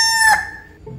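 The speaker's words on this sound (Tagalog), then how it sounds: "Ang sabi ng manok, ang pangalan niya daw ay Tiktilaok." A rooster gives a single short, loud crow close by, cutting off quickly to quiet.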